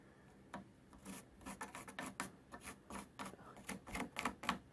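A pencil scratches and rubs across a clamped 2x4 wooden board as it is marked for cutting, a quick series of close, faint rasping strokes in an otherwise quiet space.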